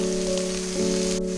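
Onion and potatoes sizzle steadily in hot mustard oil, a continuous close frying hiss that stays even and loud for the whole stretch with a faint steady hum running beneath it.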